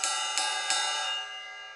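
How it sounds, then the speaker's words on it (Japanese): Crash cymbal on a drum kit, struck three times in quick succession, each hit leaving a bright, shimmering metallic wash that rings on and fades out alone. "要はこういうシンバルの音ですね。"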